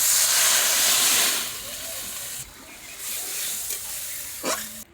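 Water poured onto sizzling fried spice paste in a pan: a loud hissing sizzle that surges, then drops to a softer bubbling simmer with a brief clatter near the end.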